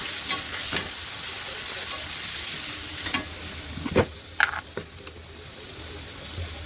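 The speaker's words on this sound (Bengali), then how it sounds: "এখন আলু ভাজবো, আলুটাকে কড়াইয়ের মধ্যে দিয়ে দিলাম" Potatoes fry in oil in a kadai, giving a continuous close sizzle broken by sharp scraping and clinking stirs of a utensil against the pan.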